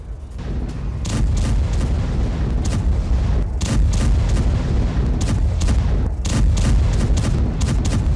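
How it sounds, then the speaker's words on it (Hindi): Repeated booms of German artillery shells being fired and landing on Russian positions in the Kursk region, a dense, continuous barrage of heavy thuds and blasts with no speech over it. "जर्मन आर्टिलरी से दागे गए गोले"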